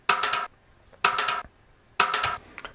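Three evenly spaced rimshot strikes, each a quick cluster of snappy cracks, run through classic SSL-style compression at about 6 dB of gain reduction, sounding punchy and upfront with no talking.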